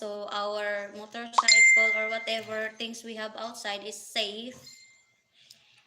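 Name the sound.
phone message notification ding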